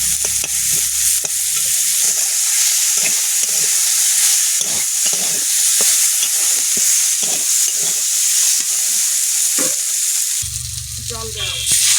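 Garlic sizzles loudly in a hot pan while Bengali crab is cooked with pui greens, a strong continuous frying hiss with stirring scrapes that dips near the end.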